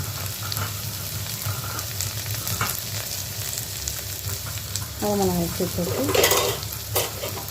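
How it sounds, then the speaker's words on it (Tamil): Dried red chillies sautéing in a pan for goat intestine fry, a steady sizzle under stirring with a spoon scraping the pan, close, growing busier and louder near the end. "வரமிளகாயை சேர்த்து நல்லா வதக்கிட்டுக்கலாம்."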